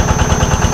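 A motorcycle engine idles weakly, its low pulsing throb steady and close over a brief moment with no talk.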